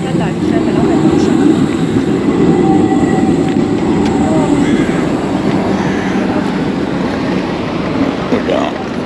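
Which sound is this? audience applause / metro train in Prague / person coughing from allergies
metro train in Prague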